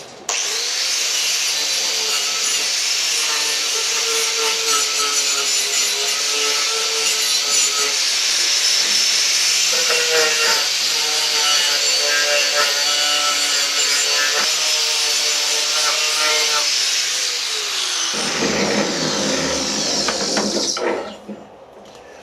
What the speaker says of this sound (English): I found a wire wheel on the grinder is probably the quickest way of cleaning these up